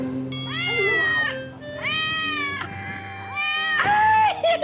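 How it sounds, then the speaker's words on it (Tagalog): A cat meows loudly several times in quick succession, each call drawn out and wavering, with a short pause between calls and the final one the loudest. "Meow! May pusa!"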